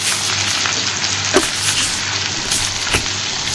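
Hot oil fries in a pan while making a Barishal-style potato bharta, a close, continuous crackling sizzle with a couple of sharper pops.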